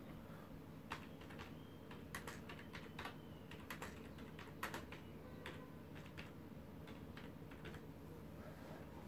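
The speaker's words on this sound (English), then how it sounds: "we're going to open this up and we're going to type something" Typing on a computer keyboard, a steady stream of soft key taps with occasional louder clacks over a faint room hum, fairly quiet and with no voices.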